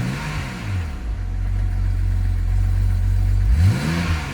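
A BMW E90 330xi sedan with about 140,000 miles sits running, its engine a steady low hum with a brief rev swell at the start and another near the end, close and alone with no voices.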